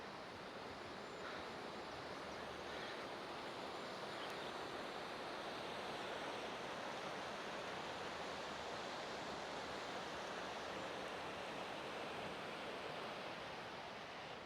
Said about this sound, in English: The river is super nice.